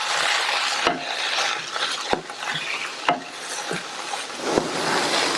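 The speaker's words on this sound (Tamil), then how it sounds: "இந்த மாதிரி நல்லா கலந்து விட்டுட்டு ஸ்டவ்வை சிம்மில் வச்சிருங்க" Ground coconut mixture is stirred into a cooking vegetable poriyal in a pan, with a constant hiss of cooking under repeated close knocks and scrapes of the spoon every second or so.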